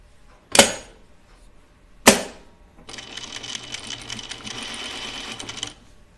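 A sewing machine stitching a lightweight shirtdress starts with two sharp mechanical clacks, then runs in a steady close whirring stitch for about three seconds before stopping.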